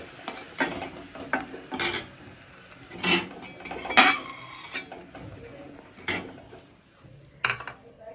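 Bitter gourd frying in a wok with utensils stirring and clattering: irregular scrapes and metallic clinks at uneven intervals over a faint low sizzle, close up with no talk.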